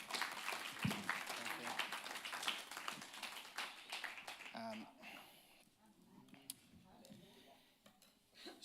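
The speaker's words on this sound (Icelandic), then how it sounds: "Hvernig væri að gefa þeim gott klapp?" A church congregation claps to welcome Pastor Gary and his wife at a Friday evening service; dense clapping for the first few seconds thins into scattered claps and quieter room noise, with some voices mixed in.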